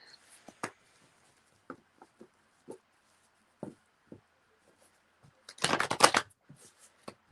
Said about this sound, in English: hard to shuffle because cards kind of split in half